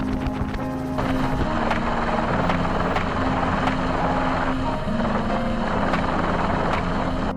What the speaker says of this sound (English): Helicopters continuously flew over heavily affected zones to monitor from above.